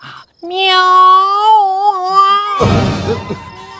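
A long, drawn-out cat meow, loud and close, wavering in pitch before breaking into a harsher, noisier cry at the end.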